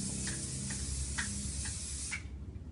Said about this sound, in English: shake your head and spray.